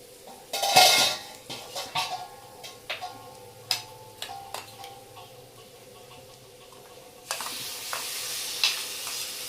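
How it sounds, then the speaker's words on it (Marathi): Ground masala paste goes into a pan for egg curry with a loud splat, then clinks and scrapes of a spoon stirring it, and a hissing sizzle rises again near the end. "जे आपण मसाला वाटला होता तो आता आपण याच्यामध्ये टाकूया"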